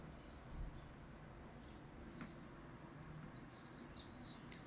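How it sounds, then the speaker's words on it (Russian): Swallows flying outside give faint, high, thin chirps in short scattered bursts that come more often toward the end, heard from a distance over a quiet low background hum. "там летают ласточки, и они сильно кричат, слышите?"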